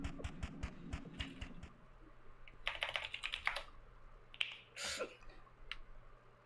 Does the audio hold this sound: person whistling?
no